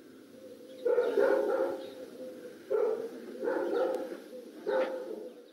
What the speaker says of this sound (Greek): Αυτός είναι ο Λάκης, ένας σκύλος που προκάλεσε ρήγη συγκίνηση στη Φθιώτιδα.